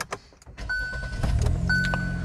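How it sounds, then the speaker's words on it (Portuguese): A Hyundai HB20 1.6 automatic from 2021 is started with a conventional flip key, giving a brief click and whir followed by a steady idle hum with chimes from the dashboard. "Então a gente coloca aqui e liga o carro."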